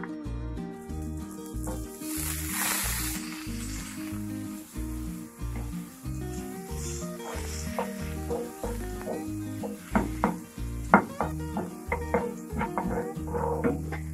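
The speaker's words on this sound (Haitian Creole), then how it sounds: "kounya qui ça fait m'a mettre beurre dans casserole là" Butter heats in a saucepan with a soft, faint sizzle, swelling briefly early on. Scattered small clinks and taps sound over a low, steady background tone.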